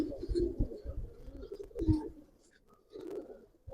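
A pair of pigeons at a Bangladeshi pigeon farm give soft, low cooing calls in a few short bursts, close by and fairly quiet.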